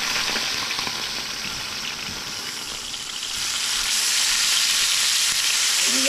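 Steak sizzles loudly in a very hot pan, a dense, close, continuous frying hiss that swells louder partway through, with no talking.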